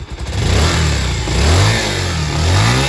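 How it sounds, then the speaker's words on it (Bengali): A 2022 Bajaj Pulsar 150cc motorcycle engine revs loudly and close up with the throttle held open, its pitch rising and falling in a steady, throbbing drone. "দেখেন সাউন্ডটা আমি একটু অ্যাক্সেলেটরটা বাড়িতে দেখাই"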